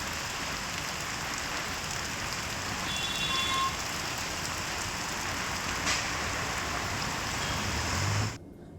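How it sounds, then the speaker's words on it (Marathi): Heavy rain pours steadily in a dense, even hiss over Nashik, loud and constant, then cuts off abruptly near the end. "नाशिकात पावसानं जोरदार हजेरी लावलेली आहे"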